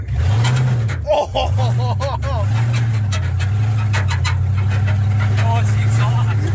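A Chevrolet Silverado mud-rig truck engine revs through its exhaust, rising and falling in repeated surges, loud and close, while a voice speaks briefly over it.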